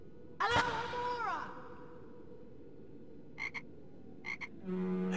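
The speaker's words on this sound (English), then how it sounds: "I hear that frog." Frog in a Harry Potter video game croaking in a drawn, wavering call near the start, followed by a low ambient hum and a few short distant chirps.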